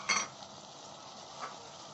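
Ginger paste sizzles gently in a frying pan while a utensil stirs it, with a sharp scrape near the start and another soft clink later over a low steady hiss.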